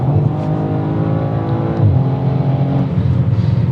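A 2022 Audi RS4 with a 2.9 litre turbocharged V6 accelerating hard, a loud close engine note that rises steadily, drops briefly at a gear change, then climbs again.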